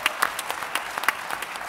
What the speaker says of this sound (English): I think she deserves a round of applause for sure.